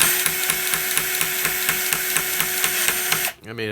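Milwaukee M12 cordless cable cutter (2472-20) working through cable, a steady whirring motor with rapid rhythmic ratcheting clicks that stops abruptly near the end with a short mechanical release.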